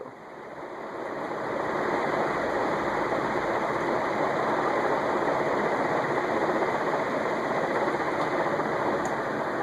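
A 1983 Canarm PleasantAire CP-56T industrial commercial ceiling fan winds down, a steady, close whirring rush with a faint mechanical hum that swells slightly and then holds at an even level without talk.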